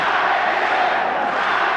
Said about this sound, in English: I don't know if you folks at home can hear the cheering